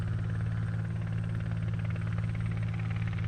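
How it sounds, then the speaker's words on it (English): Helicopter at Sywell airfield during an aerobatics competition, a steady close rotor and engine drone with a low, pulsing thrum holding constant and loud throughout, no voices. "You may also be able to see some helicopters coming in."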